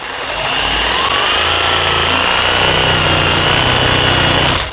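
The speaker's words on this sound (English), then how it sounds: "I'm sanding everything back up and around" Power sander running in fixed rotation against a shutter, a loud continuous motor whine and grinding hiss that holds steady throughout with no talking.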